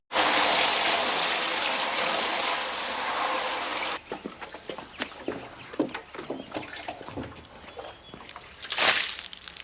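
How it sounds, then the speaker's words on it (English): Water gushing steadily into a container on a homestead for a rinse, followed by irregular sloshing and splashing as the vessel is swirled and emptied, close and fairly loud. "we need to rinse that out and then fill it up with water and let it soak for a little bit."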